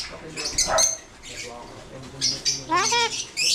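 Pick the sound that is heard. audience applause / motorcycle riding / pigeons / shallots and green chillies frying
pigeons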